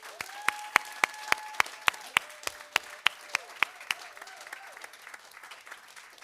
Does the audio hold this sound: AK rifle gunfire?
no